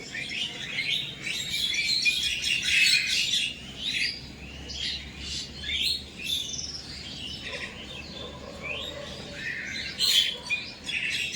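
Bright, rapid chirps and tweets from a small yellow bird repeat in short bursts over a soft early-morning background with faint insect buzz, no talk.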